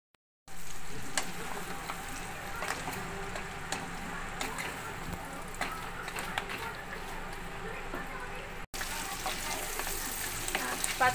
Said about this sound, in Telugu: ఐదు నిమిషాలు మూత పెట్టుకొని దీన్ని వేగనివ్వాలి.